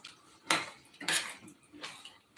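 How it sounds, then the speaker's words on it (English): A spoon scraping and clinking against a pot of wagyu meat sauce for spaghetti, three distinct stirring strokes, close and fairly quiet with nothing else behind them. "So I'm going to give it just one more stir."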